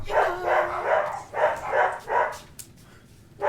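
A small puppy barks in a quick series of bright yips, with several short bursts close together before the calls trail off into quiet.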